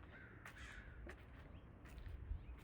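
Several crows caw in the background of an outdoor spot, with a few scattered calls over steady low ambient rumble; no speech.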